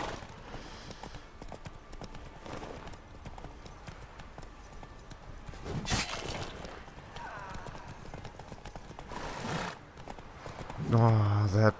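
Horse hooves clopping in The Witcher 3, a steady close run of hoofbeats amid combat noise and shouting, with sharp hits partway through.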